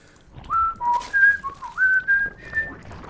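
A person whistles a slow, mournful tune in several sustained notes that step up and down, imitating sad series theme music, alone and close.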